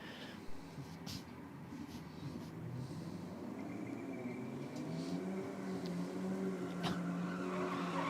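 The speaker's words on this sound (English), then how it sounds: "the JM Auto Repairs Hilux putting on a good smoke show" A Toyota Hilux for JM Auto Repairs doing a tyre-smoking burnout at a motorsport event, its engine droning and revving steadily with a hissing, squealing tyre noise layered on top, fairly distant and continuous throughout.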